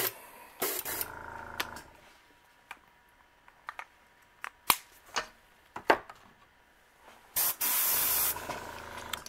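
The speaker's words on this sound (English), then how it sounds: "we're going to put some more white back in our uh, airbrush here" Short hissing bursts of an airbrush spraying white paint onto a fishing lure, separated by quiet gaps with small clicks and taps, ending in a longer sustained spray.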